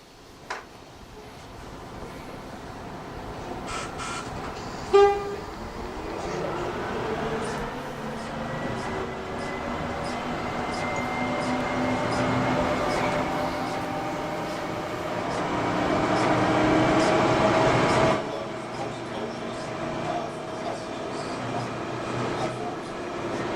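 A train runs at Mount Lofty Station with a steady, rising rumble and hum of the carriages after a brief sharp knock, the sound swelling and holding through most of the stretch.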